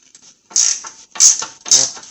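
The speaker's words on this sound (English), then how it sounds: "Let's just see if this ratchet wrench," A ratchet wrench strains against a stuck 18 mm bolt on a 2021 Jeep Wrangler Rubicon during hitch installation, giving three loud, separate creaking bursts with short pauses between them.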